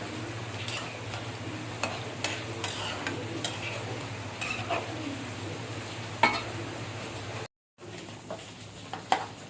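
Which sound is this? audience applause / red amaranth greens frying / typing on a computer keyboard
red amaranth greens frying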